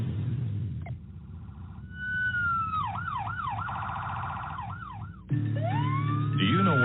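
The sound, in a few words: emergency vehicle siren approaching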